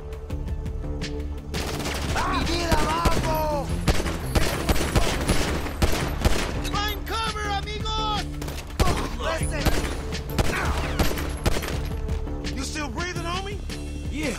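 Dense gunfire from a GTA 5 street shootout keeps crackling in rapid bursts and machine-gun fire throughout, loud and close, with shouting voices over a steady game-music bed.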